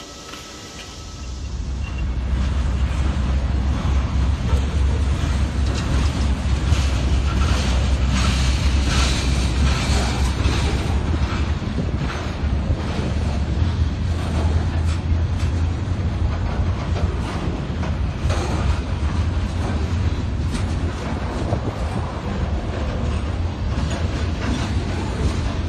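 A freight car being kicked down onto a siding track in a rail yard, a loud continuous rumble of rolling wheels and a low engine drone with steady clickety-clack, close and sustained throughout.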